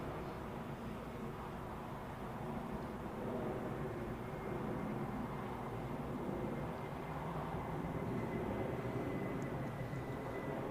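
A Condor airliner in its green-striped livery, just in from Palma de Mallorca, rolls out at Zurich Airport after landing on runway 14. Its engines give a steady, distant roar without letting up.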